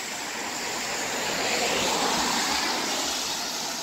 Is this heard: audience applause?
no